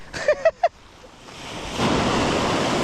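Choppy sea waves while jig fishing for snapper from a boat: a few short chirps at first, then a broad, steady wash of surf and wind swells up and continues, with no talking.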